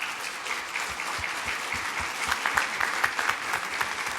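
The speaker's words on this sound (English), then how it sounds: "Please give a round of applause to all of our presenters." A conference audience at a technology summit applauds steadily for the presenters, dense even clapping filling the whole stretch at moderate level with no talk over it.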